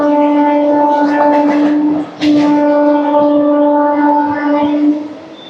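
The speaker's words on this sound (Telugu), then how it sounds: "మేము ట్రైన్ అయితే ఎక్కాము." A MEMU passenger train running between Rajahmundry and Bhimavaram gives off a loud, sustained tonal blare with a brief break partway through, then fades near the end, heard close up over a low rumble.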